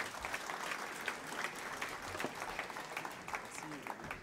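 An audience at a French business gathering on entrepreneurship and e-commerce claps in a sustained, even round of applause heard from a distance, fairly faint, with no other prominent sounds.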